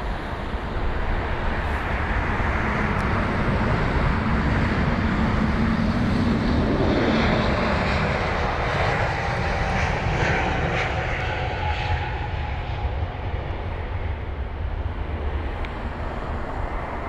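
A Swiss Airbus A320neo departs London Heathrow for Zurich with a steady, loud roar of jet engines that swells and then slowly fades, with no voices.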